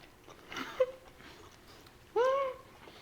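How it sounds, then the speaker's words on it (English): Two people chew dry reheated freezer chicken quesadillas up close, with faint crunchy mouth sounds and soft murmuring, then a short vocal sound near the end. "I'm hearing us chew it, it sounds very dry"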